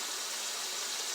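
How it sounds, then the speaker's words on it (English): Water pours steadily into a crock pot of chicken soup with bouillon cube, a soft continuous broadband gush with no voices. "I'm going to pour water in so the bouillon cube"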